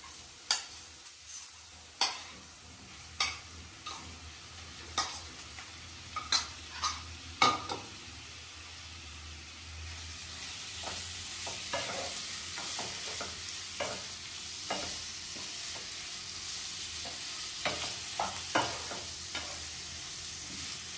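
Chicken pieces frying in a pan for a chicken roll, with a steady soft sizzle under repeated sharp scrapes and clinks of a utensil stirring against the pan, close and fairly quiet, with no talking.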